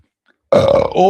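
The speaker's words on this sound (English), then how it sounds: "The beer burps at" A single loud beer burp erupts after a moment of silence, long and guttural with a rising tail, close to the microphone.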